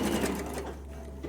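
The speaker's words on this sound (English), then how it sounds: "I like to baste quickly the picot on the seam" A sewing machine runs in a quick continuous burst while basting picot elastic onto a lingerie seam, the needle's close, rapid chatter filling the short clip.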